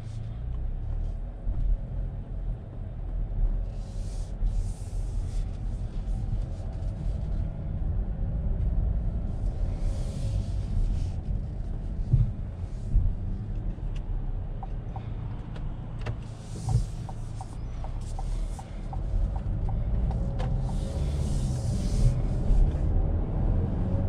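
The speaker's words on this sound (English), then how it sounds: "let's go ahead and take this Envision on a test drive and see how it does" A 2021 Buick Envision Avenir on a test drive gives a steady low road and engine hum with tire rumble throughout, broken by occasional soft whooshes and light clicks inside the cabin.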